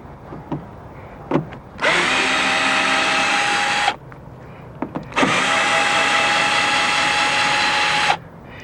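A power tool backs screws out of a boat's rub rail end cap in two loud, sustained whirring bursts of about two and three seconds, separated by short pauses with small clicks and handling knocks.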